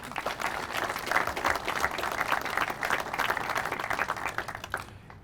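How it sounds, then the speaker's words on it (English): An audience claps at the ribbon cutting and grand opening of a fire department station, a dense, sustained round of applause from many hands that fades out at the very end. "you all deserve another round of applause"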